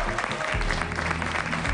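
An audience claps loudly for a volunteer who helped with a magic trick during a comedy magic show, a full burst of applause with a voice faintly underneath.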